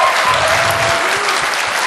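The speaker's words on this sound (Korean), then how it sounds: "I guess you're clapping more because I complimented you." A lecture audience claps together in a loud, dense, sustained burst of applause that fills the whole moment without pause.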